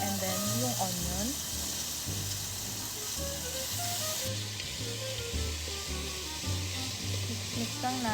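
Onion hits hot olive oil in a pan with a steady, close sizzle and hiss that runs the whole time under background music.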